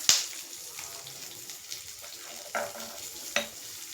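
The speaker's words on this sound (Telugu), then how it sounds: "మనం ఫ్రై అయిన తర్వాత తీసేసి శనగలు ఒకసారి ఇలా ఫ్రై చేసేసుకొని తీసేస్తాం." Chana dal fries in a pan with a continuous close sizzle, while a spoon stirs and scrapes through it, giving a few sharper knocks against the pan.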